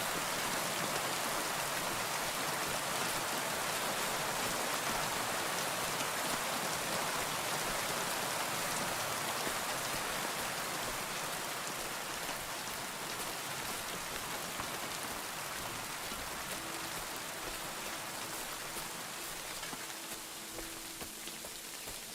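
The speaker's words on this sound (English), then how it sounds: "We're going to ignore the fact that it's raining." Steady rain patters on a surface for the whole stretch, a dense, even hiss of drops with no voices.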